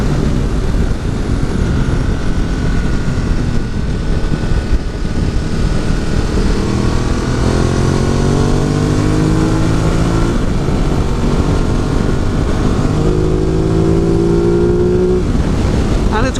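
A Ducati 950 Multistrada motorcycle accelerates on the road, its engine climbing through repeated rising pitch sweeps over constant loud wind rush, close and continuous, with a voice faintly talking underneath.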